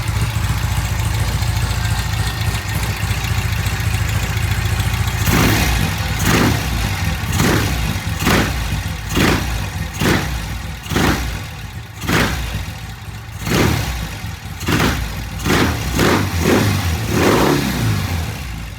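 A 1971 Norton motorcycle engine runs loud and close, its steady rumble from the start building into sharp repeated throttle blips that rise and fall over a continuous idle.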